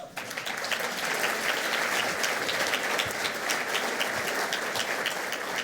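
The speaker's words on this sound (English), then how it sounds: "Let's give Raquel one more round of applause." Sustained audience applause fills a hall at a business hall of fame awards ceremony, steady and dense throughout with no voices breaking through.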